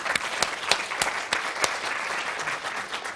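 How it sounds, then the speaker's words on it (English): Applause from a panel-discussion audience for the panelists, a burst of scattered, irregular claps from a modest crowd in a room. "so let's give them a round of applause"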